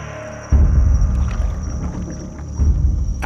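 Canoe paddling at night through mangrove canals, with soft paddle strokes and water swishing against the hull, close by, with low rumbling wind buffeting the microphone.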